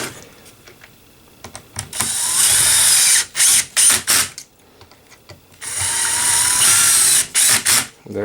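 A cordless driver sets T20 screws into the housing of a DeWalt DCS578 FlexVolt 7 1/4-inch circular saw: two sustained whirring runs, each followed by short stuttering bursts as the screws seat, all close and loud.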